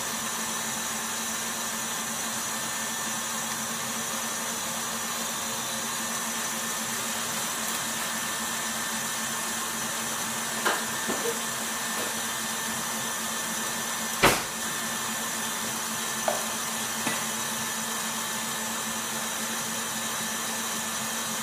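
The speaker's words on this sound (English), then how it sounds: "I'm just going to give that a quick mix on high" An electric mixer whirs steadily on high speed, whipping meringue for a summer pavlova, a constant close drone with a few small clicks and knocks and no talk.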